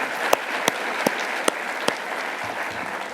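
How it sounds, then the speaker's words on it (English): At the closing ceremony of the International Astronautical Congress, the audience gives the space flyers another round of applause, a steady roar of clapping broken by several sharp, louder claps at regular intervals. "let's give them another round of applause"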